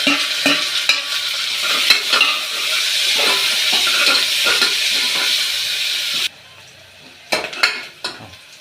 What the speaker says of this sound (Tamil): வெங்காயம் நல்லா பொறிஞ்சிச்சு